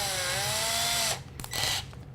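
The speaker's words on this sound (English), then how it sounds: "Now, I'm going to use a small drill bit" A small drill bit reams out the inside of a threaded tube during electronics repair work, whining steadily for about a second and then sounding again in a shorter second burst, close and loud with no talking.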